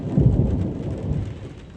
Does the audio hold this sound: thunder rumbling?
yes